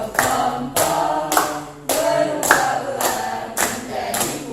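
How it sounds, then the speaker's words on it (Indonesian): A small group in a group-guidance session sings a children's song together while clapping along in a steady beat, roughly one clap every half second, the claps sharp and close over the voices. "Sambil tepuk tangan ya."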